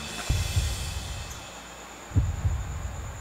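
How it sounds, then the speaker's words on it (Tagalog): Heartbeat sound effect over a faint steady hum: two low double-thump beats roughly two seconds apart, soft and close. "May heartbeat."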